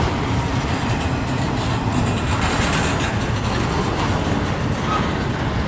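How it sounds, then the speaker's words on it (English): A CSX M200 eastbound freight train rolls past in Fostoria, Ohio, a steady, loud, close rumble of wheels and railcars with faint clickety-clack throughout. "This is a long train, Tyler."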